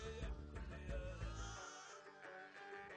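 Lambs at a Mongolian tourist camp bleating, several wavering cries in quick succession close by, fading into a quieter held bleat, with no talk.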